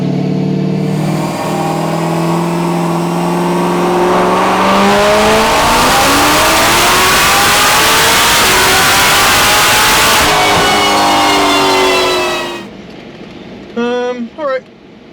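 A Stage 4 Chevrolet Corvette C7 Z06 engine screams through hard acceleration, pitch rising and dropping back at each upshift, loud and sustained before cutting off, followed by a few short blips and a voice speaking.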